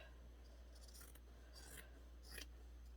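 Scissors snip through T-shirt fabric in three short, quiet bursts of close-up cutting, with no voice.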